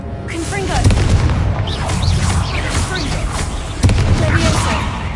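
Confringo explosive spells go off in the Hogwarts Legacy video game inside a tomb, with booming blasts and crashes early on and again near the end, heard over a speaking voice.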